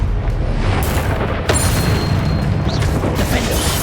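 Confringo blasting spell going off in the Hogwarts Legacy video game on Xbox Series X: a dense, booming roar with a sharp burst near the middle, loud and continuous throughout.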